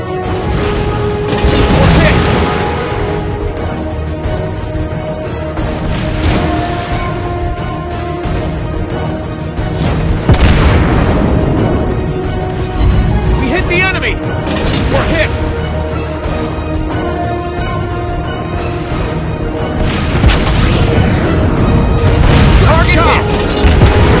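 Naval guns firing and shells exploding in the warship game World of Warships Blitz, heard as loud repeated booms over a dense, continuous battle rumble, with brief game voice callouts.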